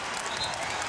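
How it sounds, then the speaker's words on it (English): Arena crowd at the 2001 NBA Finals Game 5 in Philadelphia gives Allen Iverson a standing ovation, a brief burst of roaring cheers and clapping that blends into a broad wash of crowd noise. "Standing ovation for Iverson."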